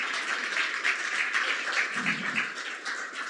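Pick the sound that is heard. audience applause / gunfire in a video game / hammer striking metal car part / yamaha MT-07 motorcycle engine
audience applause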